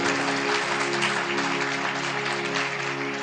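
A church congregation applauds during a sermon, a steady, dense wash of clapping lasting several seconds at an even, loud level, with a faint sustained tone beneath.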